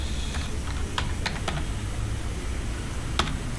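Typing on a computer keyboard, a few light, irregular key clicks close by over a quiet background hum.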